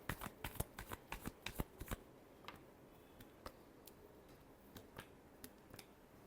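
Tarot cards shuffled by hand, a quick run of crisp riffling snaps and flicks close up for about two seconds, followed by sparse, faint single clicks against a quiet background.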